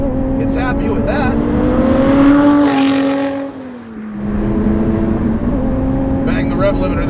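A 2018 Lotus Evora 410 Sport accelerates hard from inside the cabin, its engine note rising steadily in pitch. A brief dip marks a quick gear shift, then the engine pulls strongly again, loud and continuous, with a voice speaking over it.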